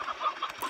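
A chicken in the video game Slime Rancher clucks in a few quick, close bursts within under a second, alone without speech.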